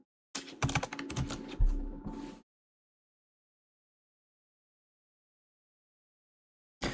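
Typing on a computer keyboard, a dense burst of quick clicking keystrokes for about two seconds, then silence with a brief return of keys at the very end.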